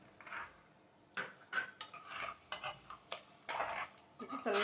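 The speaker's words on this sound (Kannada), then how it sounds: "ಸ್ವಲ್ಪ ಮಿಕ್ಸ್ ಮಾಡೋಣ." Curd stirred into a cooking pot for chicken biryani, heard as irregular bursts of a spoon scraping and clinking against the metal pot, with short pauses between strokes, close and quiet.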